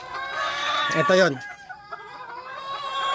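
Brood cocks and hens in a battery-type breeding pen cluck and crow close by in short bursts, with a voice speaking briefly among them.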